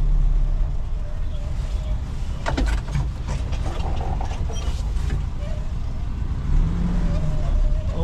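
A car with a Toyota 5K engine on a test drive, a steady low engine drone with road rumble and some rattling, with someone talking over it throughout.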